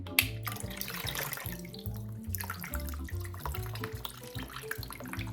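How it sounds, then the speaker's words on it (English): Water pouring from the drain hose of an Eight Sleep pod cover into a bowl, a steady close splashing trickle with small irregular drips, no voices. "make sure you've got your bowl handy so you're ready to catch the water as it comes out"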